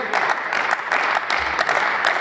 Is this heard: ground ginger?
no